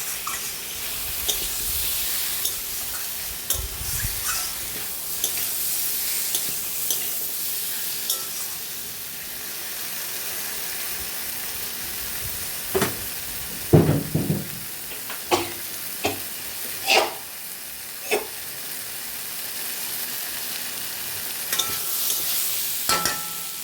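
Steady sizzling of small fish frying in a pan under a lid, with occasional sharp clinks and scraping of a utensil against the pan.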